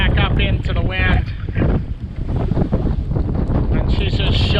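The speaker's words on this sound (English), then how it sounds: "Yeah, here comes another gust." A strong wind gust roars over a sailboat at sea, loud rushing and buffeting against the microphone that surges and stays heavy throughout, with a voice briefly audible under the noise at the start.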